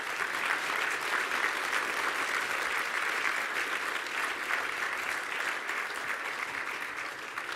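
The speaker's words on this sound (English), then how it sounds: "please join me in giving all of our recipients one more big round of applause." An audience at the 2018 Ventura Chamber of Commerce Poinsettia Awards gives award recipients a long, steady round of applause, the crowd's clapping even and sustained from start to finish.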